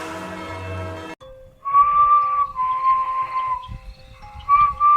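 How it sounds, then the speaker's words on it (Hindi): A faint, thin whistle rises alone in a quiet audio drama scene, several wavering tones in short phrases over a low hum, following a brief musical sting. "अचानक एक मंद सीटी का स्वर उभरा।"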